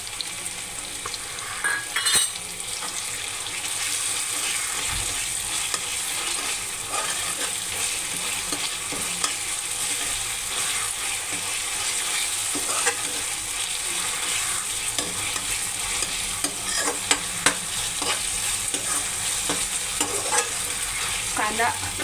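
Onion, tomato and ginger-garlic paste fry in a pan for a spiced bell pepper dish, giving a constant bright sizzle and hiss with scraping spoon strokes, close and steady throughout.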